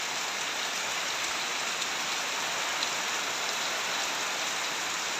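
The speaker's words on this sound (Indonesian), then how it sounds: "hujannya wis teko." Steady, dense rain falls on surfaces in a village during the first rain of the dry season, a constant hiss of drops with no pause, even in loudness, and no voices.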